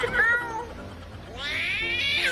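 A human voice imitates two cats flirting, giving wavering meow-like cries with a shrill, higher-pitched caterwaul toward the end.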